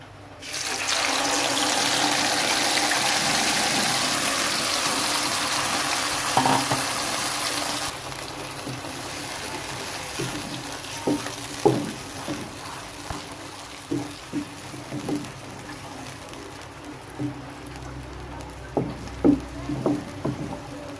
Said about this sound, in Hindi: जब कुकिंग ऑयल गर्म हो जाएगा हम इसमें ये प्यूरी डालेंगे।